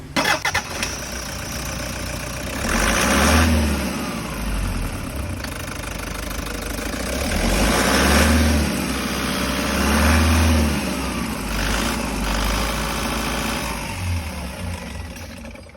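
A Toyota HiAce with a 1KD diesel engine runs with its fan belt removed, idling close by with a steady rumble that swells in a few brief revs and then settles back, with no talk over it.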